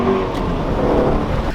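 A 2017 Ford Shelby GT350 muscle car's engine roars at high revs, loud and close, holding a sustained harsh tone through the whole moment.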